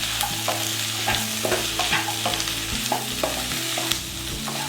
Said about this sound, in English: the flame high while the tomatoes are frying, and then we'll add in around 10 to 15 cashews